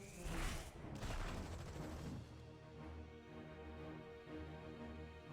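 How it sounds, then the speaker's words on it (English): Dense volleys of gunfire strike the player in a Doctor Strange video game, a loud, continuous clatter of shots and impacts with booming bursts near the start and no talking. "We just cannot take gunfire at all."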